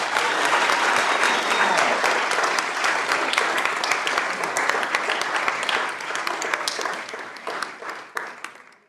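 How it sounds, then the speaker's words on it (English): A room full of people at a county board of commissioners meeting gives a long, loud round of applause, steady dense clapping that carries on for several seconds and tapers off at the end. "I want y'all to give these guys a big round of applause."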